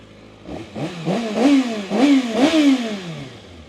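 A 2016 Kawasaki ZX636 motorcycle with 6,800 km on it runs close by, its engine blipped through several quick rising revs that fall back to idle in a repeating pattern.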